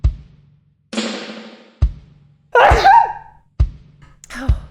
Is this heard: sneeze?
yes